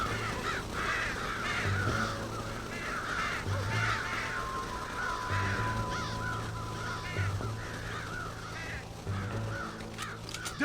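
Crows cawing repeatedly in Red Dead Redemption on PS4, a steady run of harsh caws over a continuous ambient game background throughout.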